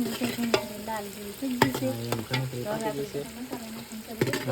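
Onions with green chili and ginger fry in a pan while being stirred, making a steady sizzle broken by repeated scraping strokes, with faint voice-like tones mixed in.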